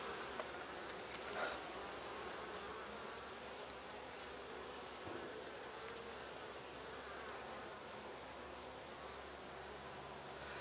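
Honey bees buzz in a dense, steady swarm from an open beehive during inspection, a continuous close hum with no talking.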